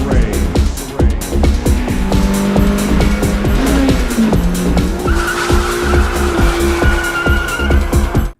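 A race car fitted with a new engine is driven on test, its engine revving hard and rising through the gears with sharp tire squeals, loud and close throughout.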